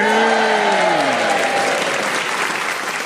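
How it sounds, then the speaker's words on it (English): A live theatre audience at a pantomime cheers and applauds loudly and continuously, a dense wash of clapping with a few rising whoops near the start, steady throughout and tapering slightly at the end. "Give them a cheer."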